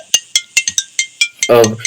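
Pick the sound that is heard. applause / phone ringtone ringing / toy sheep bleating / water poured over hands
phone ringtone ringing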